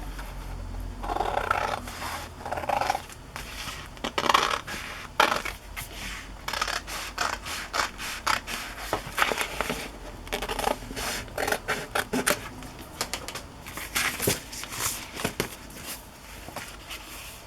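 Journal paper pages being folded along a fold line, with repeated close rustling, creasing and scraping of the paper in uneven bursts, moderately loud, with no talk.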